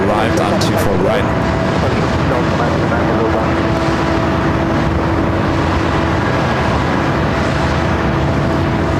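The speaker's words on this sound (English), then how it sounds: "Just as this Qantas A380 arrived on 24 right." Qantas Airbus A380 arriving on runway 24 right at LAX: a loud, broad jet roar with a steady engine whine, heard from the airfield for the whole stretch, with wind and crackle on top.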